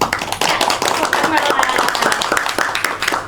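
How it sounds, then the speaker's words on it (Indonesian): Classroom clapping during a geography microteaching session, a dense burst of many hands applauding together for several seconds with voices talking over it. "kasih tepuk tangan"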